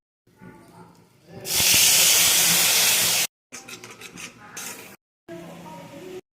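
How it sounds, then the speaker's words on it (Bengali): Cumin seeds and ginger paste hit hot oil in a home vegetarian cauliflower-potato curry, bursting into a loud, steady sizzle that then continues in shorter, softer bursts with brief pauses between them. "এবার আমি সাদা জিরেগুলো দিয়ে দিলাম, কিছু আদা বাটা।"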